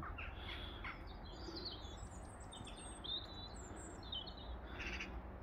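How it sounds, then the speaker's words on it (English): Crows caw and chirp in scattered bursts outdoors beneath high cumulus clouds, fairly distant over a broad, steady rumble of background noise. "Whoa, the birds. I think the crows, isn't it?"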